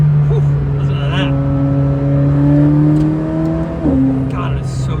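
McLaren Sabre supercar engine pulling hard under acceleration, a loud rising drone climbing steadily in pitch before a sharp shift, with someone talking over it from inside the car.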